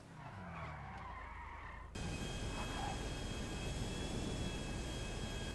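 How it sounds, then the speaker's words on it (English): Private jet in the Half-Life video game: a sudden loud, broad roar of jet engine noise kicks in partway and holds steady, following a quieter stretch of ambient game sound. "Private jet."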